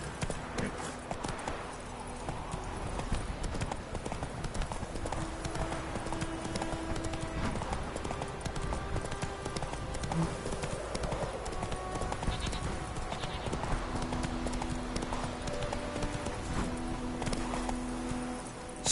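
Horse hooves clip-clopping at a steady trot in The Witcher 3, a continuous rhythmic patter running throughout with game music and ambience beneath, and a brief voice now and then.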